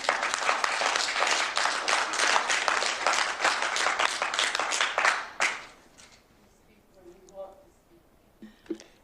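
An audience in a city council meeting gallery applauds loudly and steadily for about five seconds, dense rapid clapping that stops abruptly, followed by quiet with a few faint voices.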